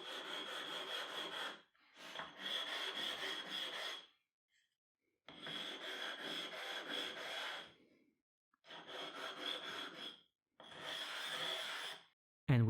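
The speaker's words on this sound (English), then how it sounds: "we removed quite a bit of material from our whetstone, but it is needed to get an extremely flat surface" A whetstone being ground down and flattened against an abrasive surface, giving five long rasping strokes with short pauses between them, close and steady.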